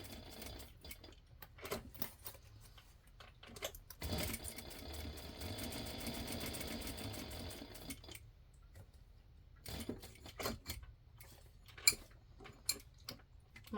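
Home sewing machine stitching a fabric corner bookmark at a quarter-inch seam, whose synchronizer is out of adjustment: bursts of rapid mechanical ticking run continuously for several seconds, broken by pauses and a few sharper clicks, faint and close.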